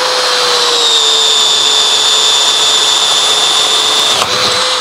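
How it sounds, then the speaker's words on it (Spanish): A Milwaukee 2802 drill fitted with a 1/8-inch bit bores at speed 1 in drill mode, a loud close steady high whine running unbroken, with a brief dip near the end. "Estoy en velocidad 1 en el modo taladro."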